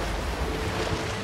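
An ocean wave in the video game Unravel, a brief broad washing surge of surf and water noise, steady and fairly loud with no voices.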